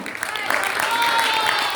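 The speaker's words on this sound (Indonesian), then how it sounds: "Berikan tepuk tangan sekali lagi untuk peserta yang kelima." Applause from an audience at a speech contest, a dense steady wash of clapping sustained for under two seconds, fairly loud and close with faint voices mixed in.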